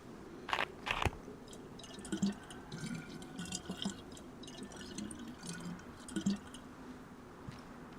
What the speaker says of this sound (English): Take the water bottle. Fill that.